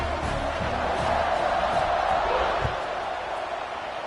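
A football stadium crowd at a Penn State at Iowa game gives off a broad, sustained roar of cheering that holds steady and then eases slightly toward the end.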